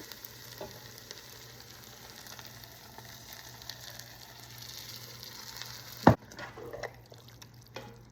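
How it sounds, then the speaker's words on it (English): Pureed green chilies poured into a hot deglazed pan for Colorado-style pork green chile, giving a steady close sizzle with a sudden loud splash-hiss near the end, followed by quieter crackling. "Now I'm going to put in all of the chilies that we put in the Cuisinart here slowly here"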